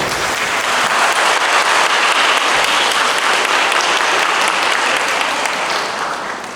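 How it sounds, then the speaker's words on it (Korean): A wedding ceremony crowd in a wedding hall claps warmly in sustained applause that holds steady, then gradually fades toward the end. "신랑 신부를 위해 최선을 다해준 유대군 에게 다시 한번 큰 박수 부탁드립니다"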